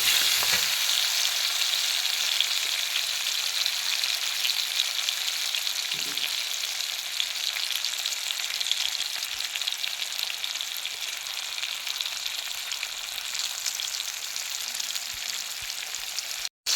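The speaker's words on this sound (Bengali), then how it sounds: "এবার দিয়ে দেবো নুন পরিমাণ মতো, দিয়ে একটু নেড়ে চেড়ে নিচ্ছি।" Salted tomatoes sizzle steadily in a pan while they are stirred, giving a constant close frying hiss with faint scraping of the stirring, and no one speaks.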